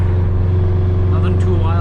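A Subaru BRZ engine drones loud and close during a night drive, a strong steady low hum with a faint rising whine, while a person talks over it.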